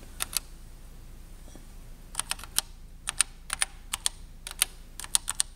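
Keystrokes on an Apple IIe computer keyboard, sharp clacking taps in short bursts separated by pauses, close and clear with no voices.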